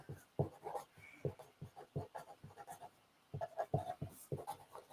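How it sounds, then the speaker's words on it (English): Pen scratching on paper in short rhythmic bursts of strokes, close and clear, with a brief pause midway before the writing resumes; no talking. "Don't know, but I'm going to write it down."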